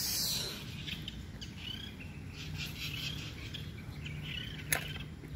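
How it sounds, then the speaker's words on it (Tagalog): Faint birdsong drifts over a quiet countryside backdrop, with soft scattered chirps and a steady insect-like hum, distant and low with no talking. "huni lang ng ibon ang maririnig mo"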